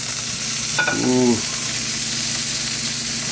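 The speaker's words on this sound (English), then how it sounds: "sizzle, sizzling" Steak sizzling in a hot pan, a steady frying hiss throughout with a brief short exclamation near the start.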